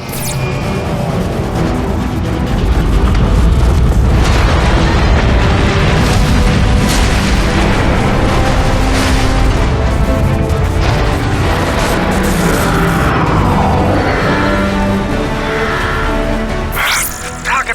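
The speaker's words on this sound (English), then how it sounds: "The neutron gun is activating!" Neutron gun powering up in Transformers: Fall of Cybertron, a loud sustained roar of booms, crashing metallic impacts and rising whines, dense and continuous throughout with a sharp burst near the end.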